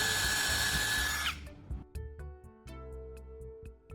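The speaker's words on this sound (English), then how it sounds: "I'll drill a hole through the center of this small wooden block." A power drill whines loudly, boring through the center of a small wooden block, then cuts off after about a second, leaving a few faint knocks and clatters.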